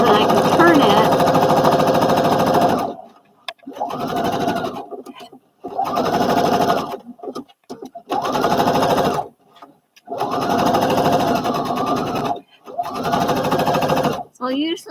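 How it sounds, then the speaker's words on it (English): A sewing machine stitches fabric in repeated bursts of rapid mechanical whirring, each lasting one to two seconds and separated by short pauses, loud and close. "this is just going to stitch this together so that I can turn it"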